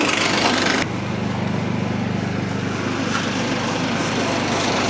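A small Chinese rock crusher working through rocks and gravel, with a loud engine drone and a hard, gritty rumble that abruptly drops to a steadier, lower mechanical churning near the source.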